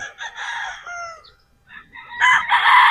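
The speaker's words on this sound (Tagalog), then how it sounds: "Ito mga battle stag lang po ito" Fighting roosters, battle stags of sweater and Boston crosses, crow close by in two loud bursts separated by a short pause, their harmonic calls rising and trailing off, with no talk.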